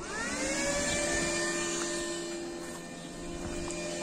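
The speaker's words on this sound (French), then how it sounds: "il y a les avions qui passent" Airplanes pass overhead near a workshop where a Citroën Ami 8's bodywork is being restored, making a loud, steady drone with a sustained tonal whine that swells and eases slightly, with no talk.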